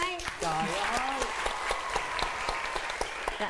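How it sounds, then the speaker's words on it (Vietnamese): Studio audience applause at a Vietnamese TV dating show, a dense steady patter of clapping with a few louder claps, under brief talk and laughter. "Đúng rồi, vỗ tay."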